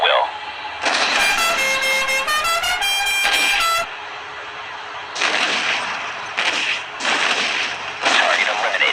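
Gunfire in the video game Modern Combat 3: Fallen Nation rings out in loud bursts of shots, repeated several times over game sound effects and radio voices.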